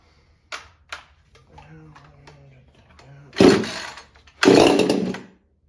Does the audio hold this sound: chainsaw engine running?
yes